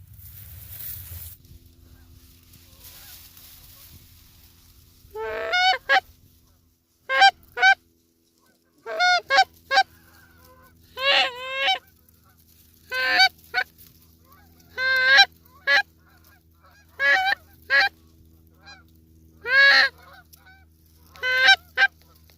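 A flock of Canada geese honks during a goose hunt, sending out a long series of sharp, repeated calls in short bursts against a quiet outdoor background.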